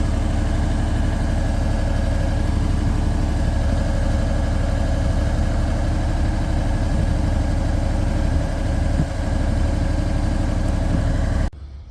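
A JLG 450AJ boom lift engine idling steadily, with a deep low rumble and constant vibration close by, running without a break until it cuts off at the end.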